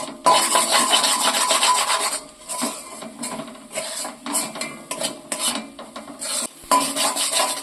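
Flour dough with salt, for a potato and flour recipe, is worked by hand in a bowl, making loud, close, gritty rubbing and rasping strokes in rhythmic bursts separated by brief pauses, with no talking.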